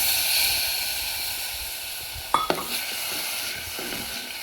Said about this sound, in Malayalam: ഇനി ഇതിലേക്ക് നമുക്ക് കഞ്ഞിവെള്ളം ഒഴിച്ചെടുക്കാം